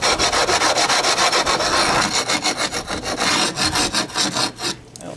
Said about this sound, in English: if you want to get rid of that, we just get the brick